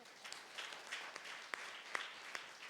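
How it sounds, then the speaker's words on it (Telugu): A church congregation at a monthly fasting prayer service claps together, a faint, distant wash of steady applause with a few sharper individual claps standing out. "చప్పట్లు కొట్టండి ఒకసారి."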